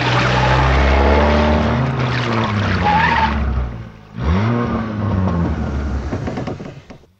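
A vehicle engine roars loudly and steadily, dies away to near quiet, then rumbles back up again before fading, with a rough, sputtering quality suggesting it stalls.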